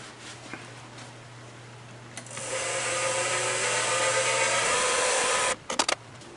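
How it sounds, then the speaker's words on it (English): A spotting drill boring a starter hole in metal for a 10-32 screw: a low machine hum, then a few seconds of loud, rough, steady cutting noise that stops abruptly, followed by small clatters. "Start off with a spotting drill, and then drill a hole for a 1032 screw"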